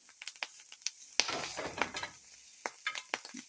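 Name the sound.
mushrooms frying in a pan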